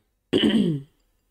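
A single throat clearing after a bout of coughing, one short rough burst lasting about half a second, close and clear against silence.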